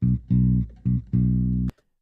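Uncompressed bass guitar playing four sustained notes, each with a strong attack, ending in a sharp pluck or click and then silence.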